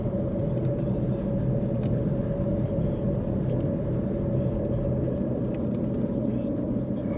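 Steady low road rumble from inside a car driving slowly through a residential neighborhood, a constant close engine and tire drone with no clear speech.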